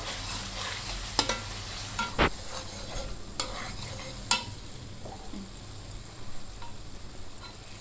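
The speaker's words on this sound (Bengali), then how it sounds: "যতক্ষণ না মশলাটা কষে আসছে ততক্ষণ পর্যন্ত আমি এটাকে নাড়তে থাকবো" Spice paste for chicken bhuna fries in mustard oil in a pan on a clay stove, a low sizzle under repeated scraping stirs and spoon knocks, close and unhurried.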